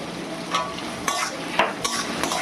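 Onions fry with salt in a pan while a spoon stirs them, so a continuous sizzle carries several sharp scraping strokes spaced about half a second apart, fairly close and with no voices.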